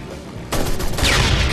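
A mounted turret gun in a motorcycle action game fires a rapid, continuous burst that starts abruptly and keeps rattling without pause, loud and close. No talking.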